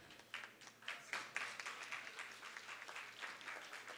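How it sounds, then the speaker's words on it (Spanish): An audience at a regional school final claps for a sponsoring bank. The applause is modest and somewhat distant, with distinct individual claps rising and falling over a low steady hum. "Fuerte el aplauso para la Caja de Ahorros, el Banco de la Familia Panameña."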